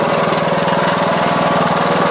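A Troy-Bilt Super Bronco lawn tractor engine runs loud and close, a steady pulsing mower rumble with no talk over it.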